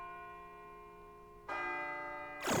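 An ominous bell in Persona 3 FES strikes once over a low humming drone, its resonant ring hanging in the air before a sudden burst of noise cuts in at the end.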